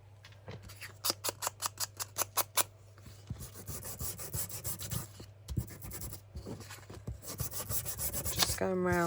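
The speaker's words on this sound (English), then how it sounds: "Just going round with the sander." A hand sander rasps around the edges of a junk journal, first in a quick run of about ten regular strokes, then in denser, uneven scraping passes, close and fairly loud.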